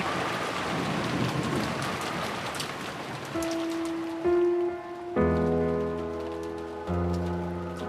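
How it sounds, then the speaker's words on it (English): Steady rain pours down with a dense hiss, then soft sustained musical tones rise in and gradually take over as the rain fades. "the sound of the downpouring rain"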